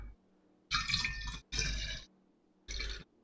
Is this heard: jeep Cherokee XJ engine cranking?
no